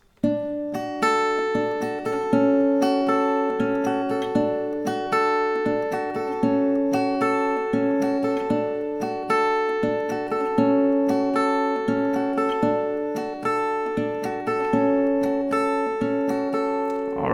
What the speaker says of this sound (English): So 4 rounds will sound like this.